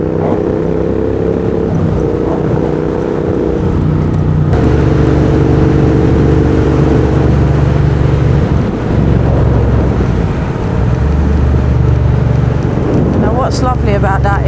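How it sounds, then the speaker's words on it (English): A Triumph car fitted with upgraded brakes drives and brakes hard, its engine droning loudly under wind buffeting, while someone talks over the noise. "If I slam the brakes on, yeah, that's lovely. Scrubs a lot of that speed off."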